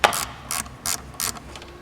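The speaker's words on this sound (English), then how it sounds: "It's going to require a 10mm socket or a wrench." A ratchet wrench with a 10mm socket loosening a hose clamp on a 2006 Mitsubishi Outlander engine during valve cover gasket work. It gives four quick, close clicking bursts in an even rhythm.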